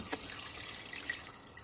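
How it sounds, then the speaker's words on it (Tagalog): Water pours into a cooking pot for beef stew, a faint steady splashing trickle with a few small drip-like plinks, heard without talking. "So, ilalagay na natin ang tubig."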